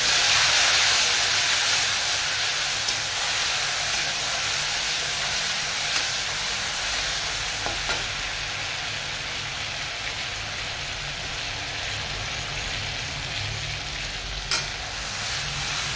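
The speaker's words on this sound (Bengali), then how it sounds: "এই পেস্ট দিয়ে আমি একটু কষিয়ে নেব ভালো করে" A paste of onion, chili, cashew, curd and tomato sizzles and fries steadily in a pan, with continuous hissing and faint stirring scrapes throughout, no voices over it.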